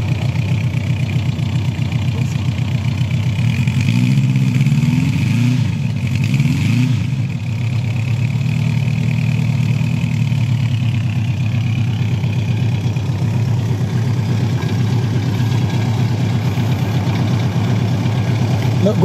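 A Honda CB400 Four motorcycle with a completely stock muffler idles smoothly and quietly nearby, with a brief rev partway through, while people chat over it.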